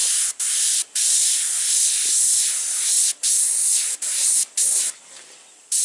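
An airbrush sprays in bursts of steady hiss while eyes are painted, with about eight spurts separated by short pauses.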